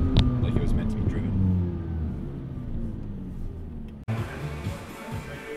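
A McLaren sports car driven on city streets in Toronto, its engine rumbling and revving steadily from inside the cabin, with a sharp cut partway through, while people talk over it.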